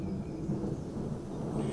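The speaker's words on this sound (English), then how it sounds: "That's your classic thunder." Deep rolling thunder from a storm rumbles steadily through the whole stretch, a dense low growl with no clear breaks and no speech over it.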